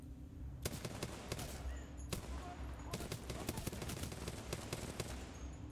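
Rapid bursts of gunfire from the first-person shooter Titanfall 2 crack out in quick, repeated volleys over a steady low rumble of game ambience, with no talking.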